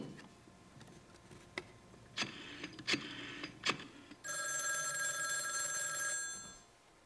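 In the adventure game Gabriel Knight: The Beast Within, a few sharp clicks and ticks come first. Then a telephone rings with a bright, sustained electronic trill that runs for about two seconds before cutting off.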